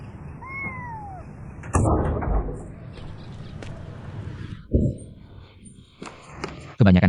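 A young stray cat picked up at a school's back door gives two short rising meows near the start, followed by footsteps and handling noises, with a cupboard or door knock later.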